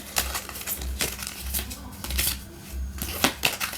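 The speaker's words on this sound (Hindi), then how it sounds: "I'll close my eyes and then I'm taking out the cards." Tarot cards are shuffled and drawn in a series of soft, close papery swishes and flicks in an uneven rhythm, with a low recurring thump underneath and a voice speaking at times.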